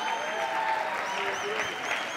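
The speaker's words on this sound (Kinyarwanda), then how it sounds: "Amashyi menshi cyane kuri Kanyombya." A crowd claps steadily for Kanyombya at a live comedy night, an even, sustained wash of applause with a voice speaking over it throughout.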